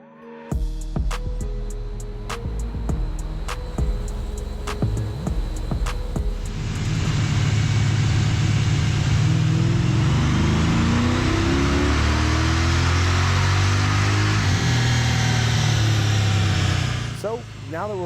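A 2018 Jeep SRT fitted with a Stage 1 kit of headers, exhaust and intake revs on a dyno. Ticks and low rumble give way to a loud, sustained engine roar that builds, holds, then cuts off.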